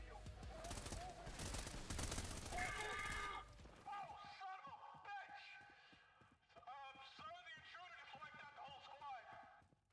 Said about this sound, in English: You think I didn't hear all that gunfire?